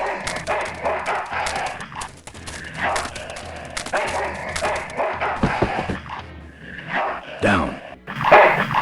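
Ill-tempered mongrel dog in the video game Full Throttle barking and snarling repeatedly, loud and close, with a brief spoken line near the end.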